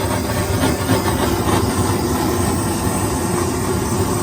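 A kitchen browning torch running for a banana cream pie, a steady loud roaring hiss of gas flame that holds evenly throughout with no voices.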